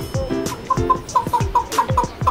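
Pet chickens kept in a rented home cluck in quick, repeated short calls, close and steady, with no voices over them.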